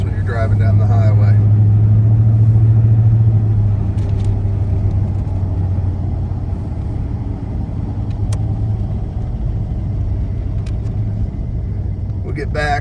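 A 1978 Chevrolet El Camino SS with LS power cruising around 2,000 RPM, giving a steady, loud low rumble of engine and road noise that holds level throughout with little change in pitch.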